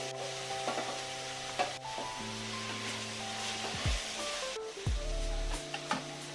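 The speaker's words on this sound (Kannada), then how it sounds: "ಈಗ ಟೊಮೆಟೊ ಹಾಕೊಳ್ತೀನಿ." Tomatoes go into ginger garlic paste frying in a pan, giving a steady close sizzle with stirring scrapes and a few clunks, under a faint tonal hum.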